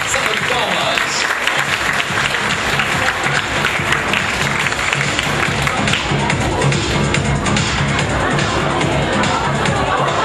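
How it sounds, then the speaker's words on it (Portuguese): Loud, continuous audience applause and crowd noise fill a fashion show runway, with steady dense clapping and background babble throughout. "Salve de palmas."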